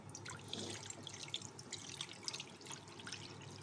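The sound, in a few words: water being poured into a pot for Maggi noodles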